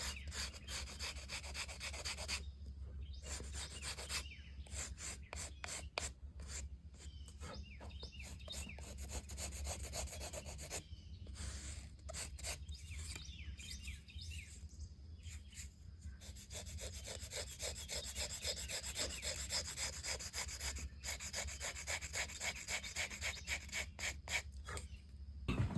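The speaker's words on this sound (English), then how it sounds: "Just about scrape that off." Steady dry rubbing and scraping of a tool across wood while fitting a violin bass bar, continuous and close, with short pauses and a faint steady low hum underneath.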